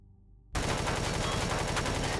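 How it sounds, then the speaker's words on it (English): In the game Empyrion Galactic Survival, turrets open fire at the player after a brief silence, a sudden, loud, continuous rapid burst of automatic gunfire with no voices. "That must be the turrets that shot me up."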